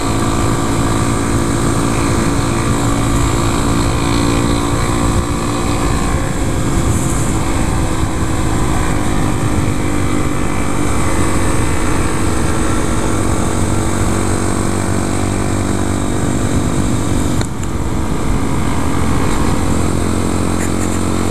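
A 2014 Honda Grom's single-cylinder engine droning steadily while being ridden, loud and continuous for over twenty seconds with slight pitch shifts and wind noise, no speech.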